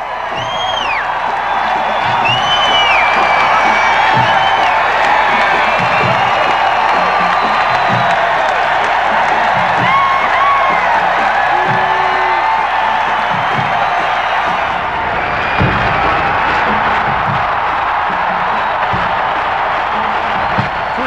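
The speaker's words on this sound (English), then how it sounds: "As the band marches onto the field, the roar of the crowd is overwhelming" A huge stadium crowd roars and cheers continuously as the University of Wisconsin marching band takes the field at the 1994 Rose Bowl, a dense, loud wall of sound with whoops and shouts rising above it.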